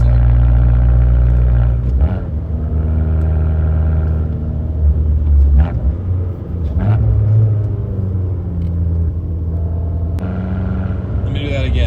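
Car engine revving in blips and rumbling through a heel-toe rev-match downshift while braking, loud and close inside the cabin, with someone talking over it throughout.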